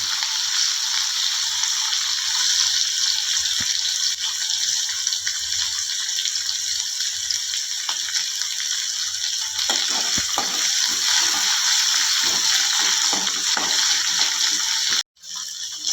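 Pounded green chili and garlic fry in hot oil with a bright, steady sizzle that runs throughout, broken by scattered clicks and scrapes of stirring and a sharp knock near the end.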